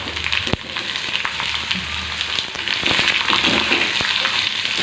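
Dried red chillies, curry leaves and cumin seeds sizzle in ghee as bottle gourd pieces go into the pan for a Telugu sorakaya curry, with a steady loud frying hiss broken by sharp clatters and stirring clinks.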